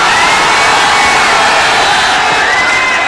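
Huge outdoor political rally crowd in Motihari, Bihar, roaring and cheering continuously at high volume, a dense wall of voices and applause with no break.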